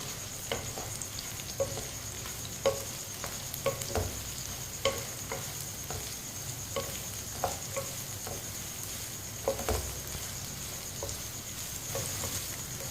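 Chopped ridge gourd (tori) frying in a pan for a sabzi, with a spoon stirring it: a steady, soft sizzle under regular scraping clinks of metal against the pan, with no talking.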